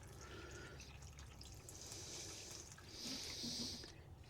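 Water trickles and splashes gently onto the soil around newly planted, deep-set tomato plants, a soft steady pour alone that swells slightly near the end.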